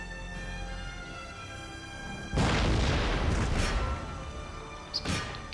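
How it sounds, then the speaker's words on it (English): Mortars firing in the video game Empire Total War: a heavy, close boom bursts out and rumbles before fading, followed a few seconds later by a second, shorter thud. "There's some more firing on their mortars."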